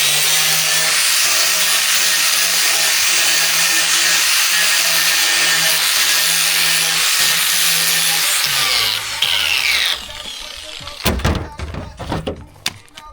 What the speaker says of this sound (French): Et il les signe à la meuleuse